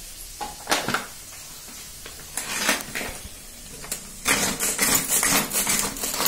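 Four large tomatoes are finely chopped in two batches for a spicy potato curry, giving scattered knocks and clatter at first, then a denser, louder run of chopping noise in the second half, with no talk.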